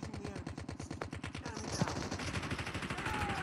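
Rapid automatic gunfire in the video game Call of Duty Mobile, a steady rattling burst of evenly spaced shots that continues throughout, fairly loud and close.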